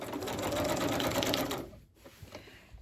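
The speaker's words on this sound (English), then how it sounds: "If you don't like the sound of the sewing machine" A sewing machine stitches mixed media tags in a fast continuous whir for about a second and a half, then stops, leaving a few faint clicks and handling noises.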